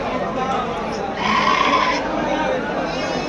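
A Bandur ram at a sheep market in Mandya gives a short, fairly loud bleat amid steady outdoor crowd noise, with people talking nearby throughout.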